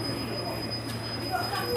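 A passenger train formed of units 143619 and 143611 rumbles past close by at Starcross, with a steady loud roar, a sustained high wheel squeal and faint clicking of wheels over rail joints.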